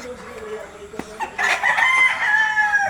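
Rooster crowing at a backyard chicken coop, a loud, drawn-out cock-a-doodle-doo rising midway and trailing off, with hens clucking around it and faint voices in the background.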